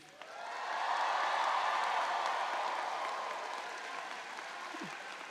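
Graduates at a December university commencement break into cheering and applause, a distant, fairly soft wash of clapping and voices that swells, holds, then slowly fades.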